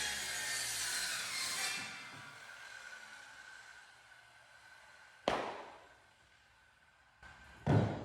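A hand saw cuts through wood for a 6x6 workbench with rough rasping strokes that fade out, followed by two sharp knocks as pieces drop or shift, nearby in a quiet shop with no speech.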